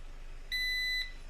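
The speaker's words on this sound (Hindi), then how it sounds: "एक बीप के बाद इसको छोड़ देंगे, एसी पे रहने देंगे।" A charger circuit beeping when powered on: a single steady electronic tone about half a second long, clear and close over a faint background hiss.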